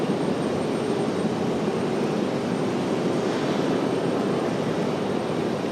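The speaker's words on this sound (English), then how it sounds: "We got this A220 up for departure." An Airbus A220 jet roars steadily on departure, a loud continuous broadband engine rumble holding level without a break.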